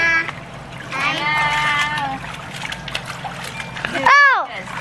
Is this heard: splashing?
yes